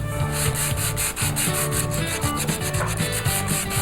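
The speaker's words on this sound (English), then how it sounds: "120 grit sandpaper, wrap it around my wooden block, and then start to polish, making sure that I keep this flat on the part" Metal is sanded with 120 grit paper wrapped around a wooden block, producing a loud, rhythmic back-and-forth rubbing stroke about every quarter second, close and alone.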